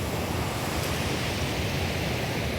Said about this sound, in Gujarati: તમે જોઈ શકો છો નદી હાલી જાય છે